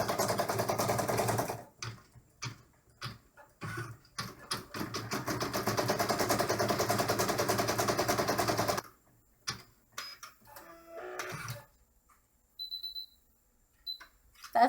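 An embroidery machine sews the final in-the-hoop stitch on a corset bag with a ribbon piece, a close, steady rapid stitching rattle that runs in long bursts, pauses, then resumes in shorter spurts.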